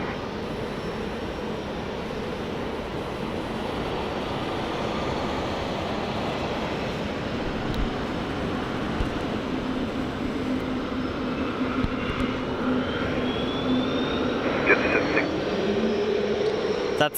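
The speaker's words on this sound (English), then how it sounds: "That's this Virgin starting up, if you can hear that." A Virgin jet's engines spool up during start at Sydney Airport, a steady broad roar with a rising whine toward the end, heard among airport ambience with people talking.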